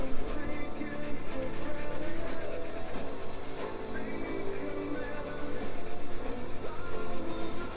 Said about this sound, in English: I'll keep scrubbing and eventually it will come all off.